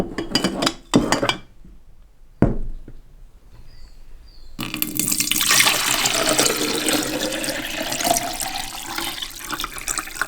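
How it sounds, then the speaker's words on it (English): Water is poured into a hydrogen electrolysis cell containing electrolyte. A few short knocks and clunks come first, then a loud, steady splashing pour fills the second half. "I will now add water to this one and some electrolyte."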